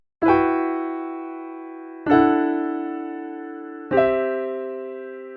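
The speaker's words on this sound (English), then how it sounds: "I added this piano, which is from Piano Tech 6" Three dry sampled piano chords from a Piano Tech 6 instrument, each struck firmly and left to ring and decay for nearly two seconds, played alone with no effects.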